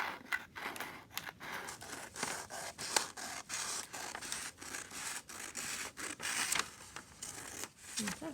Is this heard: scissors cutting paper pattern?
yes